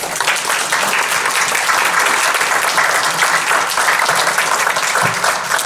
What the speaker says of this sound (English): let's give a final round of applause for our panelists